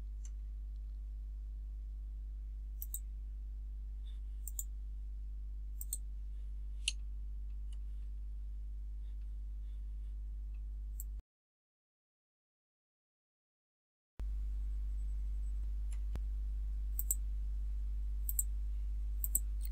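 Computer mouse clicks during on-screen building take-off work in Kubla Cubed software: sparse, sharp, faint single clicks spaced a second or two apart over a low steady hum, with a short silent gap midway.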